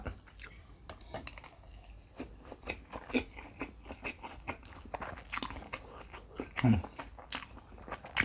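Close, crunchy bites and wet chewing of a homemade Thai fried omelette, with repeated sharp crunches spread across the stretch and a louder cluster near the end.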